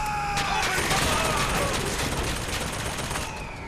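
Turret in BioShock Infinite firing in sustained automatic bursts, loud and continuous with dense crackling shots and a faint tone running underneath.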